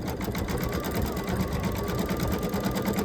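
A computerized embroidery sewing machine stitches the head of a strutting rooster design, running a steady, fast, continuous mechanical chatter at close range with no talking.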